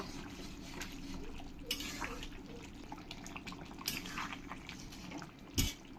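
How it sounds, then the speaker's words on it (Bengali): Duck meat curry is stirred in a pot with soft, wet scraping and sloshing. A few light clanks of the utensil come through, ending in a brief louder knock. "ভালো করে মাংসটাকে আমি একবার নেড়ে দেবো"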